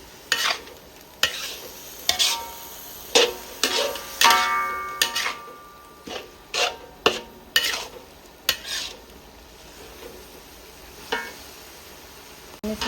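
Spatula scraping and clanking in a pan as Thai kaeng ho curry is stir-fried, with regular sharp scrapes every second or so over a low steady sizzle.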